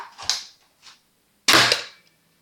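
Two sharp pistol shots close by, a faint click between them and short silences around each report.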